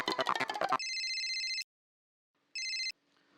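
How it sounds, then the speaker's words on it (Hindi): A telephone rings in two electronic bursts, a long ring and then a shorter one after a pause, heard clearly right after a brief busy sound. "मैं अभी टप्पू के पापा को फोन करती हूँ"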